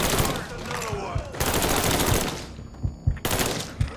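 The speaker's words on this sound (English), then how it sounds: "Ah shit, I'm getting shot." Video game gunfire in Mafia 3 strikes the player character, with dense bursts of automatic fire and impacts over a steady action-game backdrop, sharp hits recurring toward the end.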